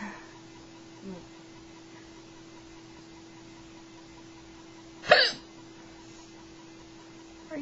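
A single sharp hiccup from a mother or son rises from a quiet indoor room with a steady background hum, with a fainter hiccup-like catch earlier.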